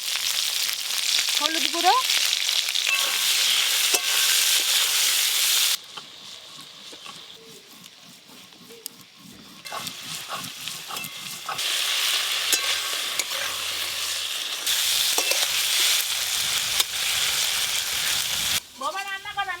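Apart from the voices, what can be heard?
prawns frying in oil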